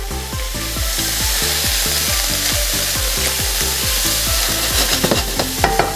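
Pork for fried rice sizzles loudly in a hot pan with caramelizing edges, while a utensil stirs it in steady, evenly spaced scraping strokes over a constant frying hiss.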